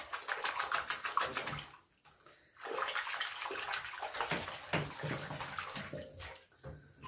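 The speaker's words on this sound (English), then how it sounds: "all we're going to do now is just give it a fairly good shake in the soapy water" An electric rotary shaver being shaken in soapy water, producing quiet splashing and sloshing in bursts, with a short pause before the agitation resumes, faint and close.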